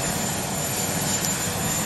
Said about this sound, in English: a helicopter known as Marine One, and the president is in it